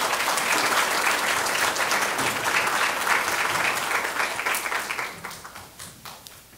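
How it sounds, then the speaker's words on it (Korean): Applause from a large audience at the opening ceremony of a Seoul National University–Maeil Business national student presentation competition final, a dense steady wash of clapping that holds loud for several seconds and then thins and fades toward the end. "여러분들 큰 박수 부탁드리겠습니다."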